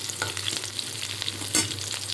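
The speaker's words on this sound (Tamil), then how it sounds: "பச்சை மிளகாய் சேர்த்து லைட்டாக வதக்கி விடுங்க." Green chilies sautéing in hot oil for dried fish thokku: a continuous close frying hiss with light stirring scrapes and one sharper clatter near the end.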